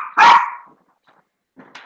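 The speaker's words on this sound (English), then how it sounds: "they're really tiny dogs too that are barking that loud" Tiny dogs bark loudly and close by: one sharp, forceful bark, a pause, then a quicker, fainter pair of yappy barks, with no talking.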